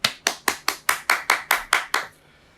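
Nine sharp, evenly spaced claps ring out in a steady rhythm during a French-language church service thanking volunteers, then stop abruptly, leaving quiet.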